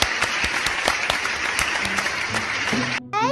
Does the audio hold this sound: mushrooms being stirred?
no